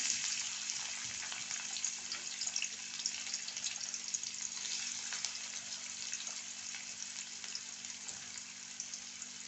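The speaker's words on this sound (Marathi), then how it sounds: "ह्या कढई गरम तेलामध्ये ना मी कांदा टाकते कट केलेला आपला" Steady sizzling of chopped onion frying in hot oil in a kadai, a constant hiss that continues evenly throughout without pause.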